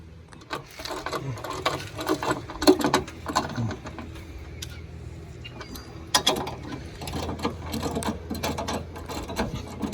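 Bolts are tightened with a ratchet on a John Deere E180 riding lawn mower, with bursts of quick clicking ratchet strokes and metallic clinks from nearby tools, separated by brief pauses.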